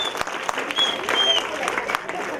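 An audience claps at the Bidare Tirumala inauguration event to score a stage performance, a brisk, fairly close burst of many hands with someone talking over it and a few sharp whistle-like tones.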